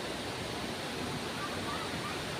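Flowing stream water at Meenmutty, a dense, steady broadband rush close by, continuous and even for the whole short stretch with no voices over it.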